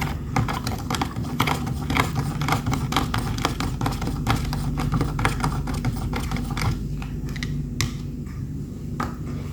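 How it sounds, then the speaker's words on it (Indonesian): Rapid, continuous clinking of a spoon against a glass, stirring salt into water steadily for several seconds at close range with no talking. "Lalu kita aduk."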